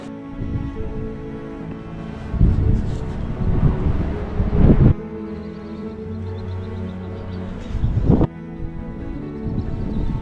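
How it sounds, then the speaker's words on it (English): Gusty wind buffets the microphone in loud rushing bursts on high city walls in Croatia, dropping back to a steadier low roar between gusts. "A bit windy up here on these walls."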